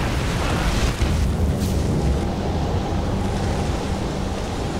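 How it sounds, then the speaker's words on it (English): A big explosion in the video game Skyrim fills the space with a loud, sustained roaring rumble that holds steady for several seconds and has no speech over it. "I think it causes a big explosion"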